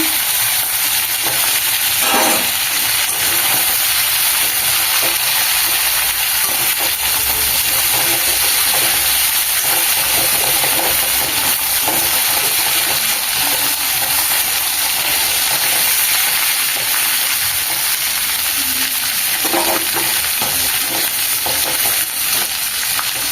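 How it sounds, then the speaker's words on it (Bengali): Crab claws frying in hot oil give a steady, loud sizzle that runs the whole time, with a couple of brief sharper crackles or stirring bursts along the way and no voices. "কাঁকড়ার দাঁড়া দিয়ে দিচ্ছি তেলে।"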